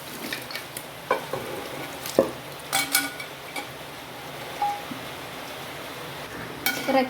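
Beef pieces sizzle and fry in a masala of onions and coriander powder for a home-style beef curry, with intermittent scraping and clinks of a spoon stirring in a pan, close and moderately loud, no talking.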